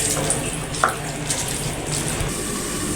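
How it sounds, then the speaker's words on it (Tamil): Water is poured into a simmering soya chunk curry, a short splashing trickle over a steady bubbling hiss, close and fairly quiet. "கால் கிளாஸ் தண்ணி ஊற்றிக்குவோம்ப்பா."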